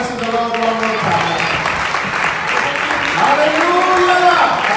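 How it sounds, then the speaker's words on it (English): A church congregation clapping hands at a thanksgiving anniversary service, steady broad applause mixed with tonal voices or music underneath throughout. "Shall we clap our hands to the Lord one more time?"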